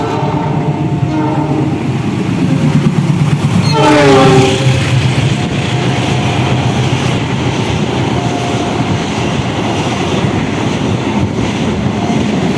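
Passenger train passing loudly and close on an Indonesian railway line, sounding a horn near the start over a constant heavy rumble of rolling wagons.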